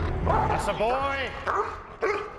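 Chino, a police K-9 dog, gives yelping barks and whimpering whines up close, with a couple of sharper yips toward the end, over steady background noise.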